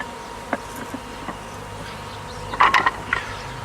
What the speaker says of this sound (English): Now, generally speaking, Robert, are the bees aggressive during this time